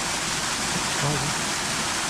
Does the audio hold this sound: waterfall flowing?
yes